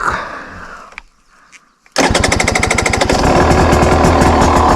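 A 2025 KTM 300 XCW Factory Edition two-stroke dirt bike with the choke on fires up after a short quiet pause, settling into a loud, rapid, steady idle close by with no talking.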